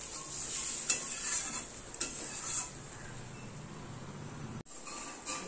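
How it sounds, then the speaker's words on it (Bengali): Fish kalia gravy in a pan with water just added, boiling: a soft, steady hiss and bubbling with a few light clinks of a utensil against the pan, fairly quiet and close. "এবার আমি জল দিয়ে দেবো। এটাকে ফোটাবো ভালো করে।"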